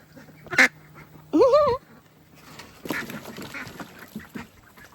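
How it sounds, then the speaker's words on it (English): A few nasal quacks from young ducks, about six weeks old, close by on a Kentucky farm, including a drawn-out call, followed by softer chattering and rustling. "Yeah, ducks are a little bit silly."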